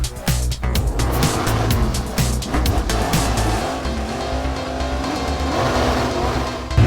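A monster truck's engine revs loudly and continuously, with rough, throaty roaring, tire noise and scattered rattling bursts throughout, close and without talk.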